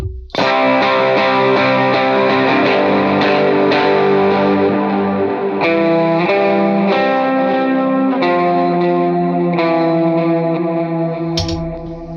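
Electric guitar chords strummed through a pedal rig with reverb and delay, a loud, sustained, chiming wash in which each new chord rings into echoing trails before fading out at the end, with no talking.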